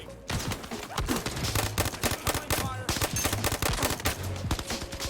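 Rapid bursts of automatic gunfire from a firefight in the VR shooter Zero Caliber, loud and close, with dense overlapping shots and short gaps running steadily throughout.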